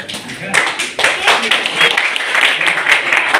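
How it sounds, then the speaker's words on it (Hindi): A crowd at a celebration in Bhiwandi claps to honor guests, dense applause swelling and holding steady with voices mixed in. "तो एक बार इनके तालियां बजाएं और सभी हमारे बीच में इनके सम्मान में।"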